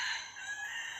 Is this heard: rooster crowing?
yes